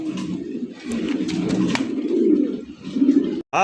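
Fancy pigeons at a busy pigeon market give a continuous, loud chorus of overlapping cooing that runs throughout, ending in a brief break.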